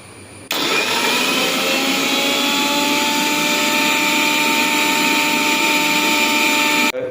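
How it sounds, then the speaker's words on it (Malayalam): A mixer grinder whirs steadily as it grinds roasted coconut and coriander into paste for a chickpea curry, starting abruptly after a brief pause, running loud and continuous with a high motor whine, then cutting off at the end. "വറുത്തത് നമ്മൾ മിക്സിയുടെ ജാറിലേക്ക് ഇട്ടിട്ടുണ്ട് ഇനി നമുക്കിത് നന്നായിട്ട് കുഴമ്പ് രൂപത്തിൽ അരിച്ചെടുക്കാം"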